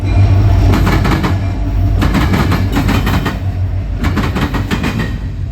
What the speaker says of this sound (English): Then we see a eastbound UP intermodal with one of UP's newer special locomotives.